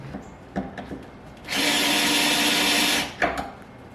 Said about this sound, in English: This is an IKEA drill from like 10 years ago.